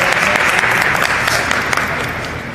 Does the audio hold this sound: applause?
yes